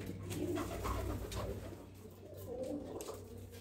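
Fancy pigeons in Oman coo in soft, continuous, low murmurs, faint and fairly distant, with a steady hum underneath.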